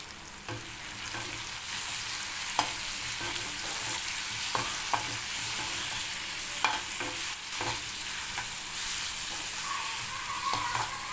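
Mango peel pickle frying with chili powder and a little sugar, stirred steadily in a pan: a continuous close sizzle broken by repeated scraping and clinking strokes of the spoon, with no talking.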